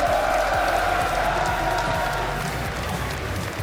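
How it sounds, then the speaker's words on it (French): A crowd at a skill show in Belgium claps and cheers loudly for a performing group, a dense continuous wash of applause and shouts throughout. "faites-moi un tonnerre d'applaudissements pour Revolution of Skill"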